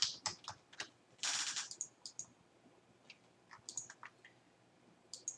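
Typing on a computer keyboard while renaming sketches in Autodesk design software: sparse, faint clicks and short bursts of keystrokes separated by pauses, close and quiet.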